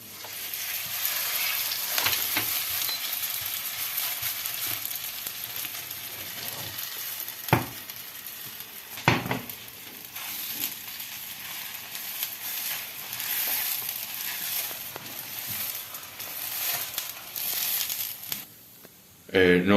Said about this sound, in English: we made a ball of dough round and put them in the frying pan 10 minutes